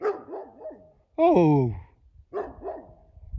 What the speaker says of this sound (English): Look at these dudes. Dogs, just doing dog things.